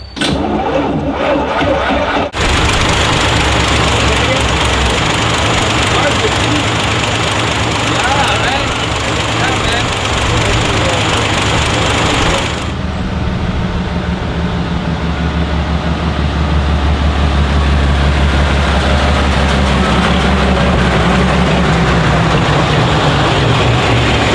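A 1915 Locomobile car engine is cranked by its starter and catches, then settles into a steady, loud idle that runs on for about twenty seconds, with voices talking over it.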